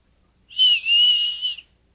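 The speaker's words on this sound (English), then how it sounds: "And you whistle back." A single sustained high whistle given as a signal, lasting about a second with a slight dip partway, clear and alone against silence.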